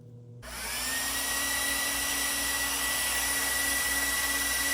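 A cooling fan motor running off a 12-volt battery spins up in under a second, then holds a loud, steady high whirr with a whining tone and rushing air, close and alone.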